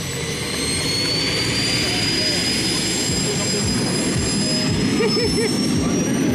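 A Jett Pitts jet-powered aerobatic biplane roars past at an air show with a loud, sustained jet engine whine and rumble. A voice speaks briefly over the engine noise.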